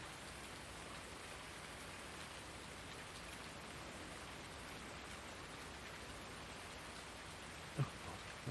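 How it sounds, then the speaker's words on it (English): Night rain in Farming Simulator 19 falls as a steady, soft hiss of drops on surfaces, continuous and fairly quiet, with one brief thump near the end and no talking. "Again, it's dark and raining."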